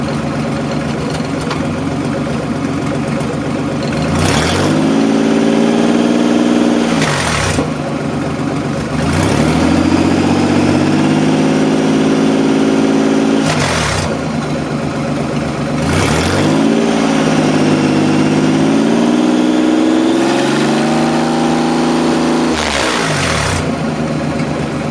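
Nissan 300ZX Z31 engine, freshly rebuilt with purged valve lifters, idling then repeatedly revved to about 2,000 RPM and allowed to drop, loud and close with rising and falling engine tone over idle.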